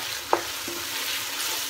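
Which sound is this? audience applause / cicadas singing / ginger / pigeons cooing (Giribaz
ginger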